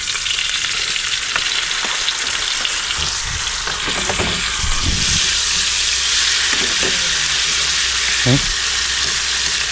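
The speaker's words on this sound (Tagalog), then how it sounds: "Kumukulo na." Steady loud bubbling and sizzling from a pot on the heat, continuous throughout, with faint clinks of a utensil now and then.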